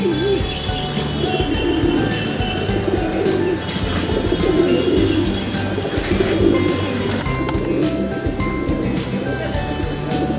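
Pet pigeons coo repeatedly in soft, throaty rolls close by at a rooftop loft, layered over steady background noise and other bird calls.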